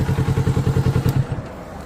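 A new 2023 Kawasaki Ninja 650 ABS KRT Edition motorcycle, a parallel-twin sport bike, idles or pulls away close by with a loud, steady pulsing throb that fades toward the end.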